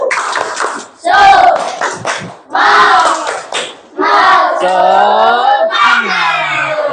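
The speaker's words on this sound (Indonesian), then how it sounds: "Kita ice breakingnya tepuk semangat aja." Schoolchildren in a classroom shout the 'tepuk semangat' clapping chant in loud rhythmic bursts, their voices mixing with sharp hand claps in short phrases separated by brief pauses.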